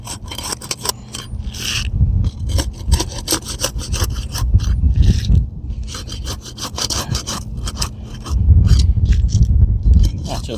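A pry bar works under an asphalt roof shingle to break its seal, producing continuous rough scraping and grinding with rapid gritty strokes, close and loud throughout.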